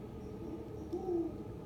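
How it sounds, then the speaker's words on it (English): An owl hooting once, a soft low call rising briefly out of quiet night ambience. "I wanted to look at the baby owls"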